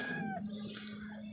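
Backyard chickens kept in a pen behind a house cluck faintly at a distance, a soft brief call over quiet ambient background.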